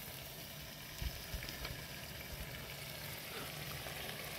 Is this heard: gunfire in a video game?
no